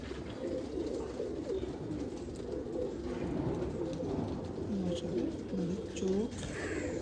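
A female pigeon coos in soft repeated phrases, close by and fairly quiet, over a low steady background.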